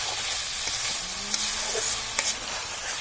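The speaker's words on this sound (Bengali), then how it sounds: "তো আমরা আবার একটু নাড়াচাড়া দিয়ে দিচ্ছি, আমাদের মশলা কষানো হয়ে গিয়েছে" Raw mango with spices fries loudly in a pan, a dense continuous sizzle with an occasional clack of a spatula stirring through it.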